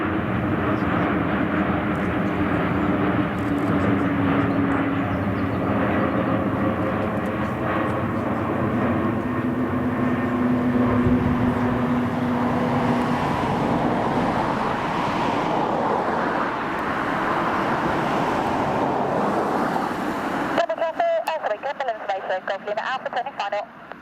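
A Corsair Boeing 747 jet on a low approach roars loudly and steadily overhead for about twenty seconds before cutting off, with radio chatter heard beneath the engine noise.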